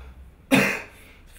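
A single sharp, close cough breaks a quiet moment, then fades quickly.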